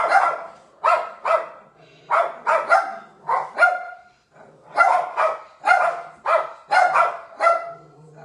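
Puppies barking in quick repeated bursts, several yips and barks in an irregular rhythm, fairly close and loud, with no voices.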